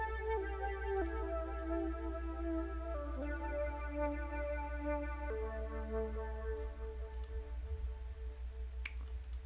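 A flute sample from the Purity plugin, processed with an added effect in an FL Studio hip-hop beat, plays sustained stepping tones over a deep, steady bass hum, with faint clicks near the end.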